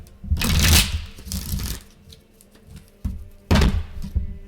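Tarot cards are shuffled in several quick riffling bursts, close up, with soft taps and pauses between them.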